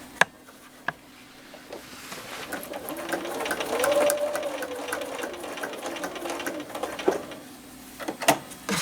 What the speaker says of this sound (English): we're going to sew around it and a little X in the middle